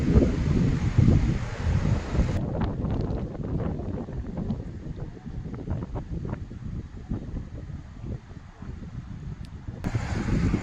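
Steady wind blows across a sea beach at Digha, a continuous broadband rush with gusty fluctuations throughout, fairly loud and close to the microphone, with no voices.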